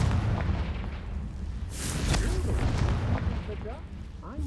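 A Confringo fire spell blasting in Hogwarts Legacy, a loud booming burst with crackling follow-through, overlapped by short combat voices and grunts during a fight.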